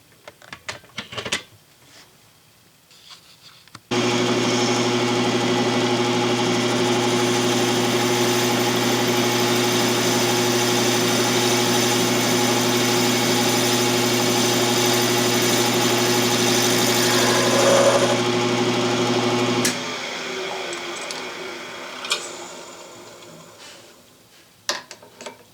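An Atlas metal lathe taking a cut with the compound fed in, a loud steady motor hum and whine running for about sixteen seconds before shutting off, with light clicks and handling noises before and after.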